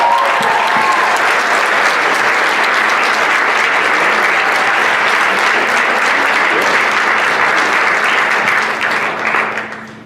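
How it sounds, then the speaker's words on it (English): Loud, dense round of applause from the audience at a township school board meeting, sustained evenly for about ten seconds before tapering off at the end. "let's hear another big round of applause."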